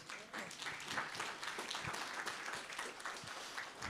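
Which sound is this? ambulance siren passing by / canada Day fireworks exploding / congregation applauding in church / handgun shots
congregation applauding in church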